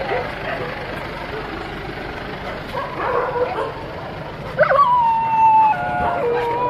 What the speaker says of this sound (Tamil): இந்த நாய்களாம் ஒழிச்சு கட்டணும்.